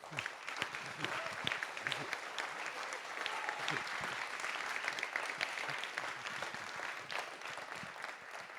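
An audience applauds Édouard at the opening of a digital technology event, many hands clapping in a sustained, fairly even patter that sounds moderately distant and fills the hall.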